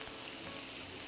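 Chicken rollatini searing in a hot pan gives a dense, steady sizzle with bright crackling hiss, close up and continuous, with no one talking.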